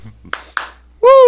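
Two sharp hand claps sound close together, followed by a brief bright ringing tone.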